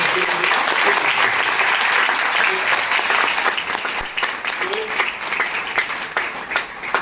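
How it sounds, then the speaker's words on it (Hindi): Audience applause fills a direct selling business meeting hall, a dense, steady wash of many hands clapping for the full stretch, loud and close, easing slightly toward the end. "बजाइए तालियां फिर डायरेक्ट सेलिंग।"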